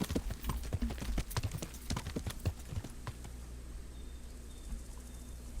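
Horse hooves clip-clop in the video game Kingdom Come Deliverance, a quick, sharp run of hoofbeats for the first few seconds. It then eases into softer ambient sound.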